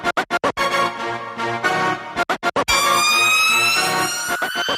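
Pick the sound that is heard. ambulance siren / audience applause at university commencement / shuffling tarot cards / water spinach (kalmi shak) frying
ambulance siren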